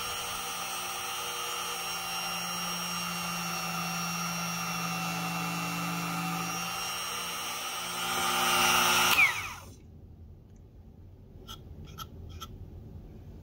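A small power drill whines steadily for several seconds through a slice of wood, rising in pitch before stopping abruptly, followed by a few faint clicks in near silence.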